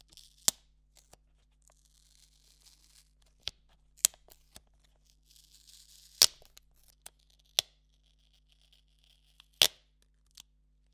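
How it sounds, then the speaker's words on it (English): A price sticker being peeled off a video game case, heard as sparse, sharp little tearing and crinkling snaps scattered across a quiet background, close up with no voices. "And the original sticker if you want to remove it."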